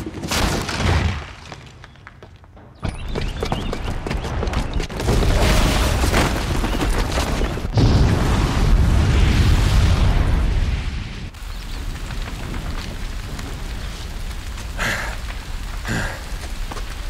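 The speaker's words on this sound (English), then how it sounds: "the booby trap on the bomb downstairs is gonna get set off" A bomb goes off in the video game Horizon Zero Dawn, a loud booming blast that breaks in suddenly and rolls on as a sustained, rumbling roar with crackling debris for many seconds.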